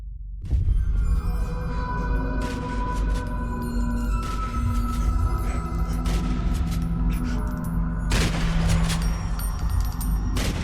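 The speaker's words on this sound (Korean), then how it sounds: "왜 총소리가 들린 거지?" Gunfire erupts in the horror video game Fatal Midnight, a loud opening blast followed by a continuous booming volley over a droning tone, with a second heavy burst near the end.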